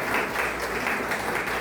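An audience applauds a singer at a live spiritual gathering, dense continuous clapping, close and full, with no voices over it.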